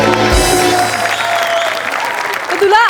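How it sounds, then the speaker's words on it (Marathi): Studio audience applause on a Marathi comedy sketch show, a steady dense wash of clapping lasting throughout, heard under music and a voice. "जोरदार टाळ्या."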